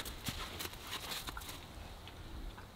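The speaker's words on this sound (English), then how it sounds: "watching three horses cruise around" Three horses walking around, their hooves landing in faint, irregular soft thuds over a quiet outdoor background.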